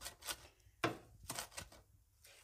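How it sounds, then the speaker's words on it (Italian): A mezzaluna crescent knife chopping on a board in a kitchen, with a few separate rocking strikes spaced unevenly, close and crisp, with no talk. "un tritare con la mezzaluna è tutto un altro"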